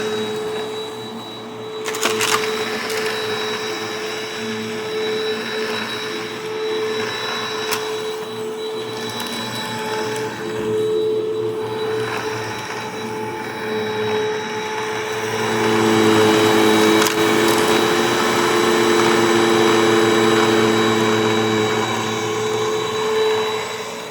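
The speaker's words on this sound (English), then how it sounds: "It is quieter than I expected. Most Hoovers are quite a bit louder than this." A Hoover Mach 5 upright vacuum cleaner runs steadily with a high motor whine and a hum, with some brush-roll bearing noise, growing somewhat louder partway through, with no talking.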